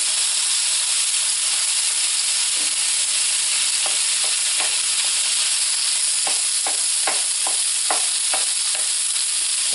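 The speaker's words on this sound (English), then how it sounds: "Something smells so right about frying ground beef." Ground beef sizzling and frying in a hot pan over a gas flame, a steady loud hiss with scattered crackles and pops, plus a few scraping stirs near the end; no voices.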